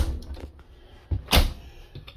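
Cupboard doors in the kitchen of a 2018 Georgetown 31L RV give several quiet clunks and knocks. There is one sharper thud in the middle, and low room noise fills the gaps between the knocks.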